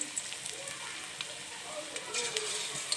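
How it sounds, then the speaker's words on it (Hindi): Spinach pakora batter, mixed with potato, dropped by hand into hot oil in a kadai, giving a steady soft sizzle and crackle with occasional sharper pops, close and fairly quiet. "मैं फिर अब इस मिक्सचर को हाथों की मदद से ही डाल रही हूँ कढ़ाई में"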